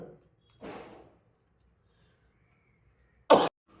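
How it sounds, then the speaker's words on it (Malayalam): A person coughs twice in a quiet room, a softer rasp first and then a sharp, loud cough a few seconds later. "കുറച്ച് നേരം റെസ്റ്റ് ഇല്ലാതെ സംസാരിച്ച ചുമ വരുന്നുണ്ട്"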